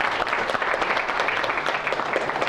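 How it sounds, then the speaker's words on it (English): Students in a university lecture hall applaud for volunteers at a computer science course introduction, a steady burst of many hands clapping close together with no speech over it. "let's give these guys a round of applause too."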